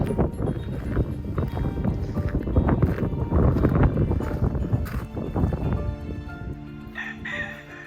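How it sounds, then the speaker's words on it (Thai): Backyard chickens, four or five birds kept beside a farmhouse in Holland, cluck close to the coop in a dense, busy chorus. Near the end a rooster crows. "เขาเลี้ยงไก่ด้วยนะคะสี่ห้าตัว"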